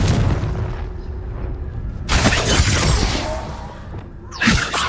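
A Confringo blasting spell in the Hogwarts Legacy video game erupts in a loud crashing boom, followed by a second sharp blast a couple of seconds later over a rumbling game soundscape.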